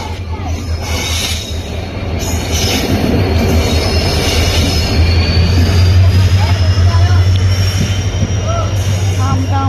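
A passenger train arriving and running in Tripura, India, near Manu: a loud steady rumble of wheels on rails builds and holds, with squealing wheels and a rising high whine, and voices murmuring faintly underneath.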